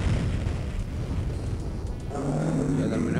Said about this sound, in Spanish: Aquí hay una explosión, así que cuidado.